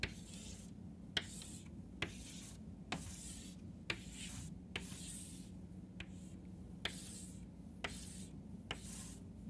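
Chalk or marker strokes on a board as numbers are written out, with soft rubbing scrapes and roughly a dozen sharp taps spaced about a second apart, steady and close against a low background hum.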